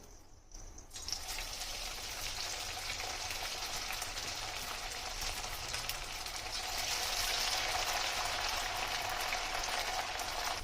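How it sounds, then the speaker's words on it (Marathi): Potato sticks drop into hot oil and fry in a steady, dense sizzle that starts abruptly and grows slightly stronger, with no talking over it. "आपलं तेल छान असं तापलं आहे, त्याच्यात आपण आपले स्टिक्स टाकूया"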